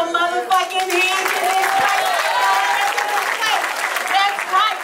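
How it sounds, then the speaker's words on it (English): Crowd clapping at a comedy show, a steady wash of hands beneath a loud voice talking and shouting nearly all the way through. "clap your motherfucking hands"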